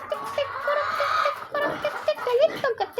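Chickens on a pig and poultry farm cluck repeatedly, short close clucks and squawks from several birds overlapping, with a louder rising call near the end.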